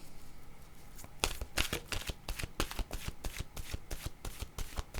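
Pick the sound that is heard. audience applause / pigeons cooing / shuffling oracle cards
shuffling oracle cards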